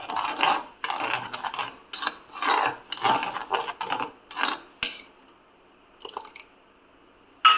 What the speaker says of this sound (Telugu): ఇందులో వేసేసి మసాలా అంతా కలపాలి